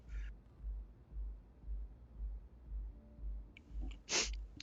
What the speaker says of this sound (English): stupid sneezes, man. I'm hoping it's just allergies